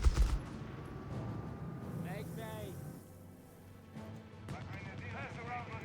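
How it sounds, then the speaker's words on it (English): SMG gunfire in Company of Heroes 3, a World War II strategy game, heard as dense battle noise with rattling bursts and distant explosions under continuous excited commentary. "SMG fire!"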